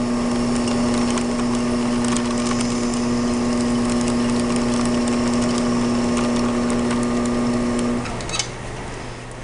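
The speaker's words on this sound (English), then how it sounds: "so I'm actually going to trim a little more off" A trimming tool shaves the dry leather-hard clay foot of a pot turning on a wheel, giving a steady gritty scraping over a constant motor hum for about eight seconds, then the cutting stops.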